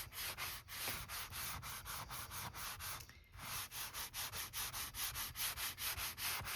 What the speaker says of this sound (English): sand block, whatever you want to call it